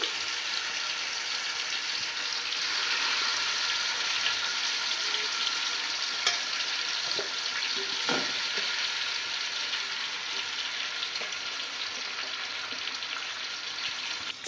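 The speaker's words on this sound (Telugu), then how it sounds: "ముందుగా మ్యాగ్నేట్ చేసి పెట్టుకున్న చికెన్ను ఇందులోకి మొత్తంగా వేసుకొని స్ప్రెడ్ చేసుకోవాలి" Marinated chicken for biryani frying in a hot pan, a loud, continuous hiss and sizzle with a few faint clinks of stirring, no voices.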